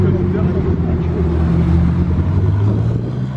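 A Ferrari 458 Aperta engine runs with a deep, steady, loud rumble, with a voice speaking over it.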